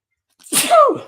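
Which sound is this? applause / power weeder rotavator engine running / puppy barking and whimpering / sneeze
sneeze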